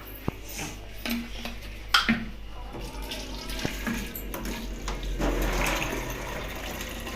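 Water runs into a bottle at home in a domestic setting, with a steady splashing flow and a few clicks and clunks. Faint household noise continues beneath it.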